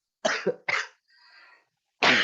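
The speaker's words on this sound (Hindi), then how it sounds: "थोड़ा खांसी की वजह से डिस्टरबेंस हो रहा है" Two sharp, close coughs, followed by a brief wheezy breath and another cough starting at the end.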